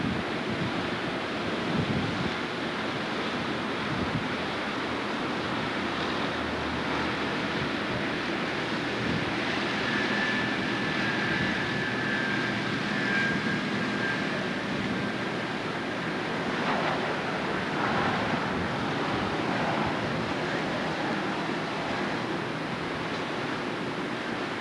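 Ocean surf at Daytona Beach, Florida washes in a constant broadband roar with gusty wind buffeting the microphone, steady throughout with no voices.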